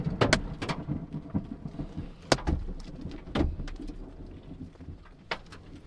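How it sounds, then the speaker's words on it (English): Hail pounds on a car during a tornado storm, heard from inside as irregular sharp impacts. A few loud strikes stand out over a constant rumbling, rainy background. "We're getting pounded with hail."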